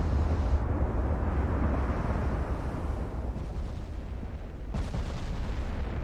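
Heavy battleship guns fire super heavy shells in the naval warfare game Ultimate Admiral Dreadnoughts, a deep rumbling roar of gunfire punctuated by a few sharper booming bursts.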